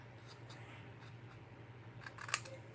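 Scissors cutting the corners off card stock for a handmade card, faint snips in the quiet room, then a sharper, louder cut near the end, no talk.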